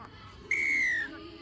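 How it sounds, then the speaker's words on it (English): A referee's whistle blown once during a rugby match, a single loud, clear shrill blast lasting about half a second over faint crowd noise. "I think my whistle's dying."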